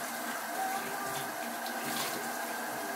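Hot tap water runs steadily over a cast iron skillet being rinsed in a sink, a continuous close hiss and splash at even strength throughout, with no talking.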